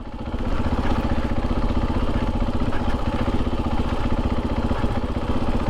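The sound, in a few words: motorcycle engine braking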